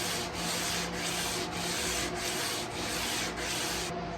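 Steady, continuous rubbing of 220-grit sandpaper against a wooden guitar fretboard in even back-and-forth strokes, loud and close, with no voices.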